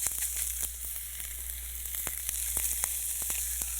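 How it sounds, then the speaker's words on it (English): Steady sizzling of meat searing in a hot pan, a constant hiss dotted with small pops and crackles, close and moderately quiet. "It's going to actually sear the meat, locking in all the flavors and juices into the meat."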